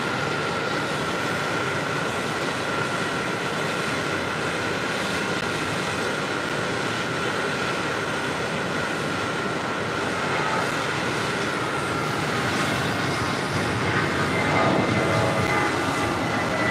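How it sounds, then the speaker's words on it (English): A Lufthansa Airbus A340-300 in Star Alliance livery departs JFK runway 4 Left, a broad, continuous jet roar that holds steady and swells slightly near the end, heard from a distance with no talk. "Next heavy departure on 4 left, Lufthansa in the Star Alliance livery, flight 401, heading back to Frankfurt"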